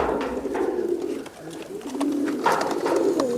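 Local Giribaz pigeons from Rajshahi cooing in a loft, a steady series of soft, throaty coos rising and falling close by, with no talk.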